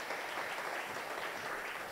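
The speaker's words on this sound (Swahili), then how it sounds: "Sasa tafadhali naomba mpige makofi." Audience applause fills the hall, a dense, even patter of many hands clapping, heard fairly faintly and at a distance for two seconds.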